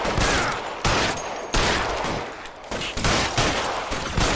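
Gunfire in the video game L.A. Noire: a run of sharp, loud shots spaced roughly half a second to a second apart, each with a quick decaying tail, heard alone without speech.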